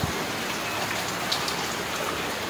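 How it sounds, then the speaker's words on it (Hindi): Heavy rain pours down steadily outdoors, a dense, continuous hiss of drops striking surfaces nearby. It stays constant throughout, with no talk. "चढ़ईटा देखो केते जोर वर्षा"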